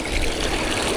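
Salt water washing in among rocks on a rocky shore at high tide, a steady close trickling and streaming that fills the whole second without pause.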